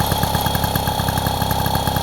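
A Motobecane Mobylette 50V moped engine, under flywheel repair, idles steadily and loudly up close, its fast even pulsing putter running unbroken throughout.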